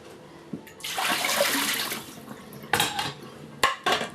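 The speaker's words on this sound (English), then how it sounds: "we're going to strain the juice off into the pan" Juice being strained and squeezed through a strainer into a saucepan while making Caribbean cornmeal pudding: a long wet pour with liquid splashing, then several short clinks and knocks of metal against the pan.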